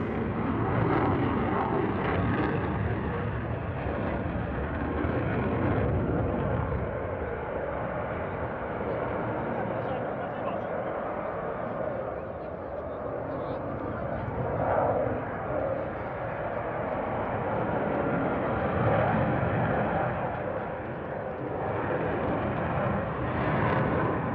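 A Sukhoi Su-35 fighter jet flies at the Russian Air Force 100th anniversary airshow, a continuous loud roaring engine rumble that swells and eases slightly over nearly half a minute, with a voice speaking over it.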